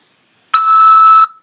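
A single steady electronic beep on a prison collect-call phone line from a corrections facility, lasting about three quarters of a second, loud and clean against near silence.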